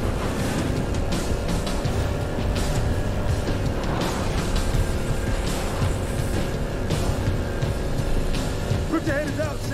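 A vehicle rumbles along with a continuous engine drone and road noise in the Halo: Reach game, steady and fairly loud throughout, with faint voices mixed in.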